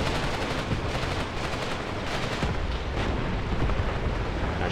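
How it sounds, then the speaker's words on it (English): Heavy artillery fire in the Graviteam Tactics: Pivot Point war game, a dense, continuous roar of blasts and gunfire with no gaps, loud and steady throughout. "Tied down with that artillery, you can just see it going off."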